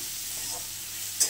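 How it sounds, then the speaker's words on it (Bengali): Dried red chillies sizzling in hot oil as a tempering for a Bengali greens dish, a steady close hiss of frying with a brief stir or clink near the end. "একটু শুকনো লঙ্কা ফোড়ন দিয়েছি"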